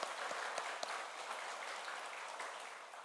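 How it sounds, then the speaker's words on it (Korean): A church congregation applauds during a Sunday worship service, a dense, steady wash of many hands clapping at moderate level with a few sharper claps standing out, fading slightly toward the end. "다시 한번 영광의 박수를 올려드리겠습니다."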